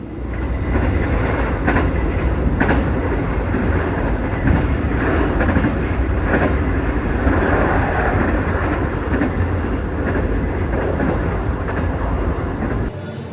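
A passenger train on the Gajayana route in Indonesia rumbles loudly along the rails, with steady wheel noise and periodic clickety-clack from the track joints, heard from inside a carriage.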